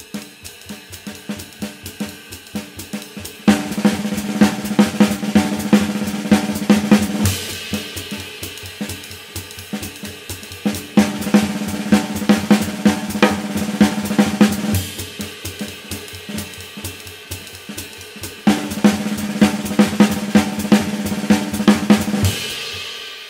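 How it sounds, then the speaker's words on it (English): A jazz drum kit plays triplet patterns filled in with rolls, dense rapid strokes in repeating phrases that swell and ease off in cycles of several seconds, loud and close, with no talking. "So now, same thing with the triplets. We're just going to fill in the middle. That's going to sound like this with rolls,"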